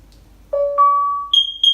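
A Nest Protect 2 smoke and carbon monoxide alarm runs its self-test, giving a rising series of clear electronic tones, then two sharp high beeps, loud and close.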